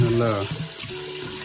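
Soaked urad dal lentils being washed by hand in cold water for idli and dosa batter, a brief splash of running water and sloshing with a voice talking over it.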